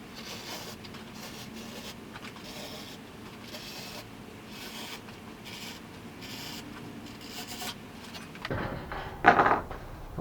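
A blade cuts through canvas being trimmed for a panel glue-up, giving a long, continuous rasping slice at moderate volume, followed by a few louder rustling handling sounds at the end.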